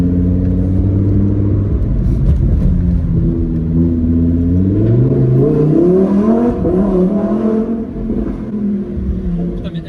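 A sports car with a dual-clutch gearbox accelerates hard, its loud engine rising steadily in pitch through a sustained, close run with a strong rumble and no talk over it.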